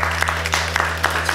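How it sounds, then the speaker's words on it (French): An audience at a French family show applauds steadily, a dense wash of many hands clapping at moderate volume over a low steady hum, with no voices over it. "On peut l'applaudir une nouvelle fois"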